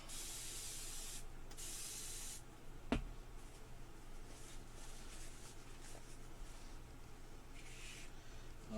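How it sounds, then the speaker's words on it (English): Spray bottle misting onto a towel, several quick hissing bursts close by, followed by a sharp click and quieter handling sounds. "Get a towel, spray it out."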